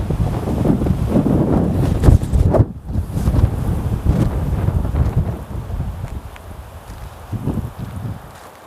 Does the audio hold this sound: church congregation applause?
no